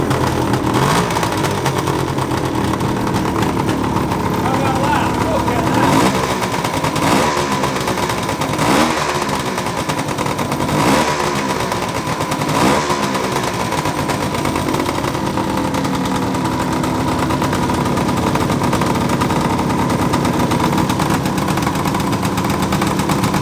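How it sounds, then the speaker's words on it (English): A 1974 Suzuki GT750 two-stroke triple motorcycle runs steadily and loud throughout, with repeated throttle blips swelling over its buzzing idle; no talk. "I'm just going to see if we can start the old girl. I started it today, so let's get some two-stroke smoke going on here."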